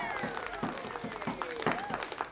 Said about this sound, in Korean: 도움이 됐으면 박수 좀 쳐봐.